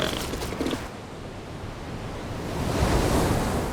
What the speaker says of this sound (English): the ocean collides with a remote peninsula